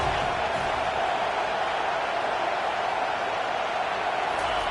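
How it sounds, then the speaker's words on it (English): A stadium crowd in the College Football 25 video game roars steadily behind the defense on third down, a dense, constant wash of cheering that holds at an even loudness throughout with no breaks. "Decibels rising as the crowd gets behind this defense on third down."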